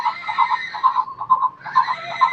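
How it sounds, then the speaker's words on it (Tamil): A children's battery ride-on toy plays an electronic horse neigh, a bright, pulsing whinny repeated in short wavering bursts, loud and close with a brief dip midway. "குதிரை மாதிரி சவுண்ட் இருக்கு பாருங்க."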